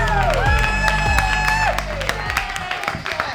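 A stand-up comedy crowd applauds and cheers as comedian Jared Waters takes the stage, steady clapping and whoops mixed with loud walk-on music that fades partway through.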